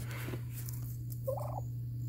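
Wild turkey hens call outdoors near a food plot, with a couple of short gobbling, yelping notes sounding at a moderate distance over a steady low hum.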